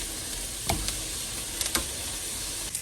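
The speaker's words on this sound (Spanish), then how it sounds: "La misma grasa que va a sacar el chorizo pues nos va a ayudar a que se empiece a freír" Continuous sizzle of chorizo frying in its own fat, with a few sharp pops and crackles spitting over the steady hiss.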